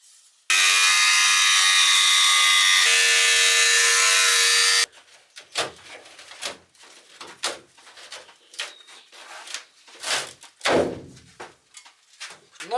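A power drill bores holes in the metal body of a VW Crafter van, one loud, steady high-pitched whine lasting about four seconds, then a run of scattered knocks, scrapes and handling clatter nearby.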